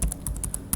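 Quick, light keystrokes on a computer keyboard, about seven close taps in an uneven rhythm while commands are entered on a Cisco router, with no talking.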